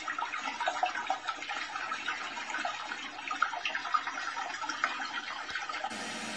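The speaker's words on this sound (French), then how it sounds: "Après, on aura ici le bruit de l'eau, de ruisseau." Babbling stream water plays from a small Xiaomi Qualitell sleep-aid speaker, a continuous trickling, splashing flow at moderate volume that stops suddenly near the end.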